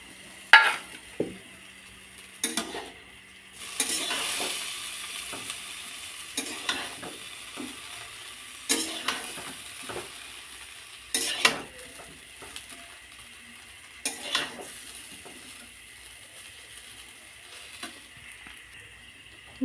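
Chowmein being stir-fried in a pan with fried potato, egg and onion added, giving a low sizzle broken by repeated scraping and tossing strokes of a spatula at an irregular rhythm, close by and with no voices.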